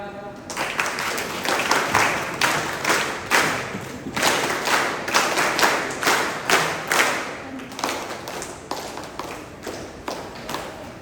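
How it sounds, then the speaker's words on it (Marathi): An audience at a lathi-kathi stick-fighting exhibition claps in unison, loud and close, keeping a steady rhythmic beat of sharp claps that continues throughout. "जोरदार टाळ्या वाजवा."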